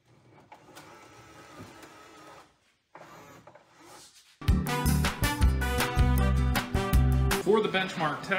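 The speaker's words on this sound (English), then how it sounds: "For the benchmark test, I am printing a XYZ calibration cube, a 3D benchy, and an all-in-one 3D printer mini test." A 3D printer running Overture matte PLA filament, with quiet, low mechanical hum at first, then loud stepper-motor tones and whirring with rapid, changing pitches as the print head moves.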